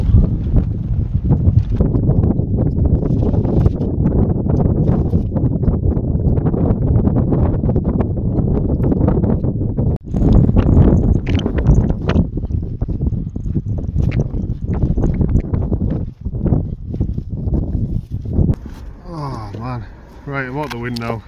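Strong wind buffets the fabric of a tent pitched on an exposed Lake District fell, a continuous loud rushing roar with gusty surges throughout, under a voice talking.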